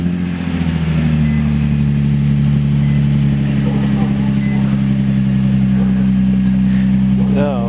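Nissan 350Z engine with its muffler deleted, running loud and close with a steady deep drone, ending in a brief rising rev.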